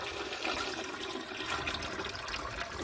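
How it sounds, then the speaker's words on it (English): Nearly a gallon of water pours into a pressure canner holding jars of vegetable soup, a steady, fairly close, continuous splashing rush that runs the whole time without any talking. "I don't want to pour the water in. This is almost a gallon of water."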